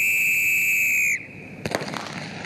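Starting gun fired to begin a 1600 m handicap footrace, a sharp crack following a long steady whistle blast, with a brief rattling echo and crowd noise after.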